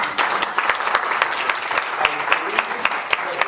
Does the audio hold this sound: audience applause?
yes